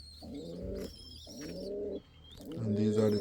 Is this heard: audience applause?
no